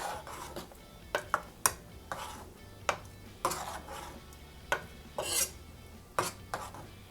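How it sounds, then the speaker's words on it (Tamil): A spoon scrapes and clinks against a pot as appalam kootu, a papad and dal curry with coconut and cumin, gets stirred, giving quiet irregular taps and rubbing strokes at close range. "இப்போ இதை வந்து நல்லா கலந்து விட்டுடலாம்."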